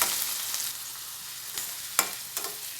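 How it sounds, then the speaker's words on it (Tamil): Onions sizzle steadily in hot oil, with a few soft scrapes as they are stirred in the pan while making red sauce pasta. "நல்லா வதக்கிக்கோங்க."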